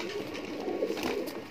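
Khaure pigeons at a loft give soft, muffled coos that blend into a faint, steady murmur, brief and without talk.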